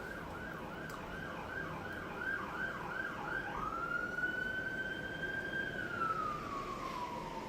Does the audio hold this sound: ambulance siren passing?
yes